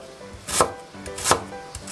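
Knife chopping lemongrass into thin slices on a cutting board, two distinct crisp cuts about 0.7 s apart with a lighter tap near the end, close and clear with no talking.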